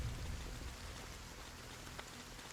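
Looping rain ambience in the video game Dungeon Settlers, a steady, quiet hiss of falling rain and patter on surfaces, continuous with no other sounds.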